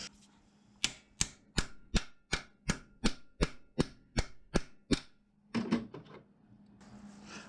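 About a dozen sharp, evenly spaced hammer blows on the metal parts of a 1996 Volvo 850 Turbo ring out loud and close, followed by a short clatter.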